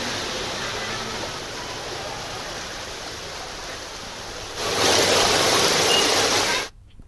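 Floodwater from heavy rain rushes through the streets of the Sarafa market in Khargone, a continuous hiss of flowing water that grows louder near the end before cutting off abruptly.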